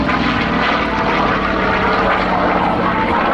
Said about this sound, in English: the growl of that Pratt & Whitney power